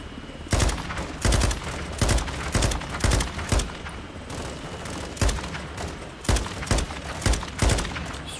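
LMG machine gun fire in a Call of Duty game, loud close bursts of rapid shots repeating in short volleys across the stretch, with booms and thuds between them and no speech.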